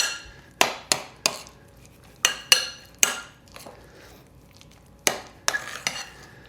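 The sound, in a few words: mixing burger meat mixture in a bowl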